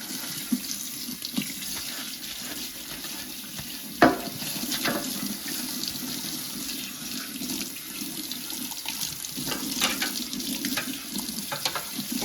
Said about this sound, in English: I'll put some on a sponge. So just wash it until all the dirt comes off.